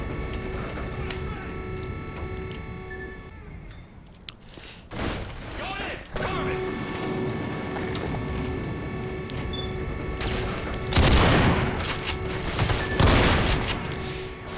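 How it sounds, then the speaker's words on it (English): Old pistol firing in Black Mesa, a few sharp gunshot cracks spread through the stretch, with some clicking mechanical handling between them and a voice talking over it. "Old pistol."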